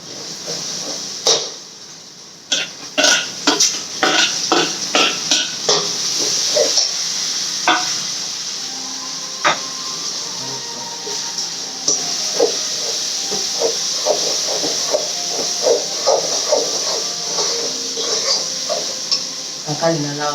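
Tomatoes sautéing in a pan for chicken curry give a steady hiss of sizzling, with sharp clinks and scrapes of stirring scattered throughout.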